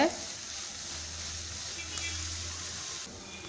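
Potatoes and chopped onion for a Spanish omelette fry in a pan with a soft, steady sizzle and occasional stirring, quiet and close, with a voice talking over it.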